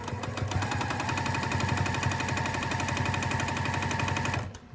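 Sewing machine stitching quilt strips with a quarter-inch seam, a loud rapid continuous mechanical chatter running steadily close up for over four seconds before stopping abruptly.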